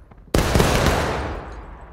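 A sudden loud volley of musket fire in the War of Rights Civil War game, an abrupt sharp blast with a long rolling, crackling decay that fades over two seconds.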